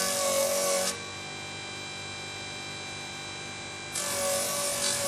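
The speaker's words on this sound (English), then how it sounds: "Friction of the wheel, I don't need a lot of pressure." A burnishing machine's spinning wheel rubs a waxed leather edge at high RPM, giving a steady, close friction hiss that eases in pitch and intensity midway as the pressure changes, then swells again.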